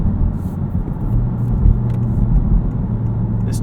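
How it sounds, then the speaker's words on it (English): A Honda Civic Type R with its 2-liter turbo engine accelerating, heard from inside as a deep, steady rumble that swells slightly midway. "This 2-liter turbo from Honda is just a work of art. And it pulls so hard."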